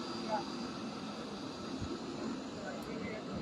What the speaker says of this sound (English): The plane is slowly moving.